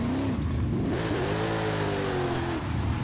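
A car engine in the Forza Horizon 5 racing video game revs and accelerates hard, a loud continuous droning roar with pitch sweeping up and settling, steady throughout without talk.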